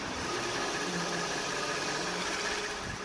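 A Hyundai Genesis BH330 with a 3.3 GDI gasoline engine idles with the hood open, a smooth, steady, quiet hum heard up close with no talking.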